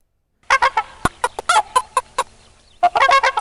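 Hens clucking and squawking in quick, irregular bursts, close and fairly loud, with a short pause before another flurry of clucks.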